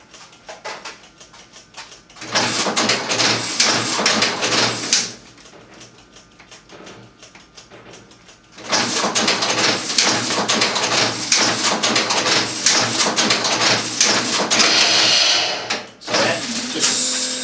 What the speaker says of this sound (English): I'm going to simulate the machine running out of strap.